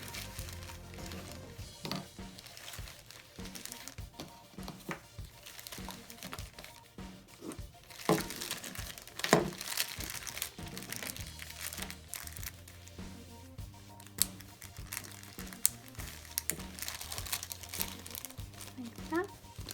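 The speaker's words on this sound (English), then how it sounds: "I'm also putting all these in a plastic bag." Crinkling plastic bag rustles on and off throughout, close by, with bursts of louder crackling while someone talks over it.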